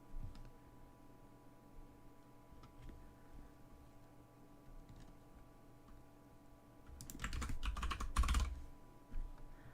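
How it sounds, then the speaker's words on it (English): A computer keyboard is typed on with a short, quick burst of clicking keystrokes near the end, after mostly quiet background hum and a few isolated taps. "If I type creepy,"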